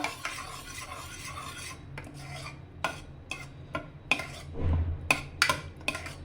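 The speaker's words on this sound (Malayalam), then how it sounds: "ഇനി നന്നായി നമ്മൾ മിക്സ് ചെയ്തെടുക്കാം" A spoon stirs tempered chili into lentil and spinach curry in a pot, with repeated scraping strokes and metallic clinks against the pan, close and fairly clear.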